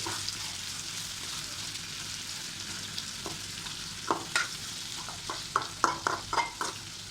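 Fish frying in a pan with ground spice, stirred and turned: continuous sizzle with a run of clattering spatula scrapes and knocks growing louder toward the end, no talking.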